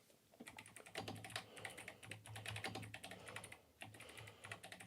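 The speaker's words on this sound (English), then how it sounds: "I need to stop fat-fingering my keyboard." Fast, irregular typing clatters on a computer keyboard, bursts of close, crisp key clicks with brief pauses, alone without talk.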